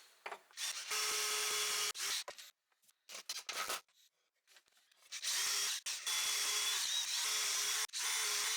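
A drill drives screws into pallet wood for a wine rack in bursts of loud, high whirring, with short pauses and quiet gaps between each run of the motor.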